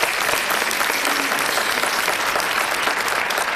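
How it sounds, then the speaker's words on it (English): Audience applause at a Congressional Black Caucus Foundation event, a dense, steady wash of many hands clapping that carries on evenly throughout. "Give her a round of applause."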